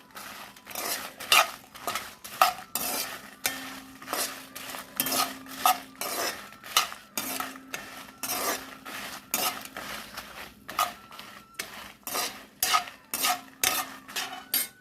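Dried red chillies being stirred in a metal pan while a Guntur-style gongura pickle is made, giving repeated close scraping and clinking of a utensil against the pan in irregular bursts, with no talk.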